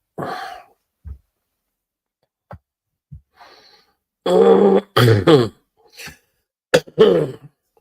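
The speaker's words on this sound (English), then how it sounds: "takes me so long to get rid of this cough" Several throat clearings and harsh coughs come in short bursts separated by quiet pauses, close and fairly loud, with a few faint breaths between.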